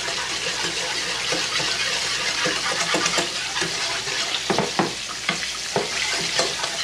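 Flour and butter roux sizzling and being stirred in a pan, a steady close frying hiss broken by repeated scraping strokes of the utensil.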